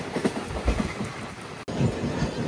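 A Narasapur–Nagarsol superfast express train runs at speed, its steady rolling rumble and rhythmic wheel clatter loud and close throughout, with one abrupt momentary dropout partway through.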